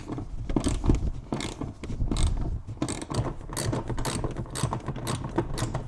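A wrench ratchets out the rear seat bolts of a C5 Corvette, giving repeated bursts of close, dense clicking with brief pauses between strokes and no talking.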